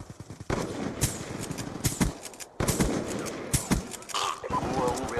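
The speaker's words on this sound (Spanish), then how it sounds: "Acaban de disparar aquí." Bursts of automatic gunfire in a Black Ops 2 multiplayer match, sharp repeated shots in clusters with brief gaps, loud and close, with game sounds and a voice talking over the action.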